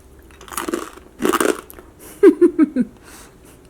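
Roasted black chickpeas with curry leaves are eaten close up: a few loud crunchy bites, then a quick run of four sharp crunches as they are chewed.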